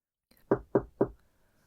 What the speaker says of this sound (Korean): 그때 누군가 문을 두드렸습니다.